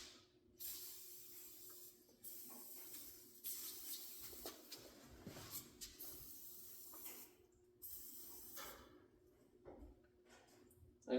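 Brake cleaner hisses in long spray bursts onto rusty brake lines under a Ford 8.8 rear end, the faint, steady jets stopping and starting with short pauses between them.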